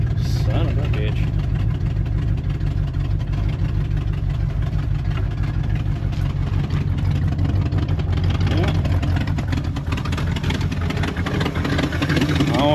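A Ford Dentside F150 pickup idles after being revived, its low, steady engine hum and rattle running close by throughout while someone talks over it.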